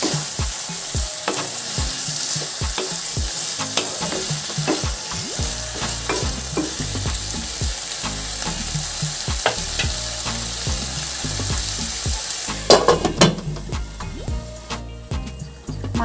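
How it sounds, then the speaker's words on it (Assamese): Marinated local chicken sizzles and fries in a wok, stirred over and over with a utensil that scrapes and taps in a steady rhythm, heard up close with a brief louder clatter near the end. "এতিয়া মই এইখিনি অলপ সময় ভাজি ল'ম।"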